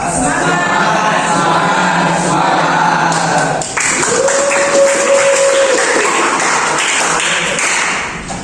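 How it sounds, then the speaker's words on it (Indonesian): A school class claps a rhythmic group spirit clap, led by the class leader, loud and continuous with crowd-like texture filling the room, ending in a steady burst of hand claps. "Tepuk semangat."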